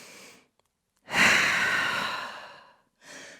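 A person takes deep yoga breaths while holding downward dog in a vinyasa flow: a short exhale, then a long, loud, rushing breath that fades out, and another beginning at the end.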